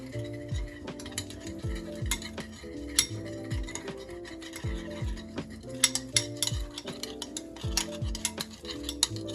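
Olive oil is stirred into a salmon marinade with quick, irregular clicks and light scraping of a utensil against a bowl, running continuously beneath soft background tones.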